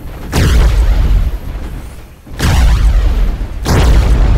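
A robot weapon fires in the World of Robots video game, giving three heavy booming blasts, each followed by a rumbling roar and decay, loud and close with no talk over them.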